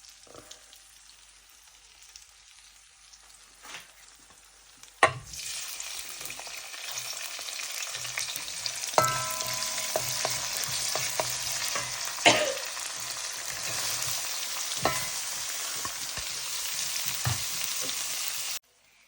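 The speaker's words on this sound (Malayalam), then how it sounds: "ഇനി നമ്മൾ ഇഞ്ചിയും പിന്നെ സവാളയും പിന്നെ മുളകും പിന്നെ വെളുത്തുള്ളിയും ഇടാൻ പോവാണ്" Ginger, onion, chili and garlic drop into hot oil with cumin and fennel seeds, bursting into a loud, continuous sizzle that runs to the end, broken by the clatter of stirring and scraping.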